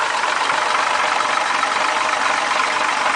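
A 1967 Ford 300 straight six idles smooth and even through a 2-inch exhaust, with a faint valve rattle, close up and constant throughout without any voices.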